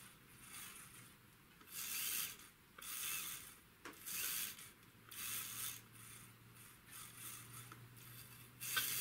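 Smiths Mach airspeed indicator mechanism as its counterweight is pulled, producing repeated soft ratcheting, gear-like whirring bursts in an uneven rhythm, close and quiet with no talking.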